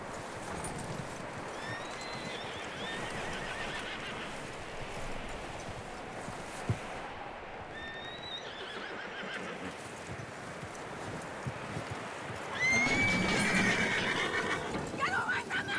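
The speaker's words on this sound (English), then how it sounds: "That looks like a decent horse." Horse whinnies and hoofbeats in the Red Dead Redemption 2 video game, with steady hooves and ambient noise throughout and a louder neigh burst near the end, under faint game speech.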